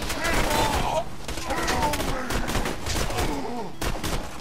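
Rifle gunfire in the video game Borderlands 2 crackles in dense, rapid bursts of shots, loud and close, mixed with game effects and someone talking over it.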